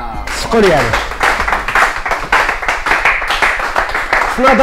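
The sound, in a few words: applause, clapping for a quiz contestant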